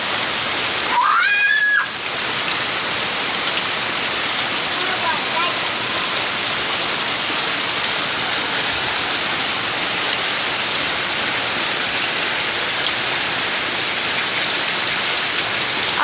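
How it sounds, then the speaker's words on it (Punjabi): Heavy rain pours steadily in the mountains as a dense, constant downpour, with water flooding the ground around a makeshift kitchen. A brief voice is heard near the start, then the rain continues alone. "ਆ ਦੇਖੋ ਜੀ ਮੀਂਹ ਲੱਗ ਗਿਆ ਜੀ ਬਹੁਤ ਜ਼ੋਰ ਤੇ"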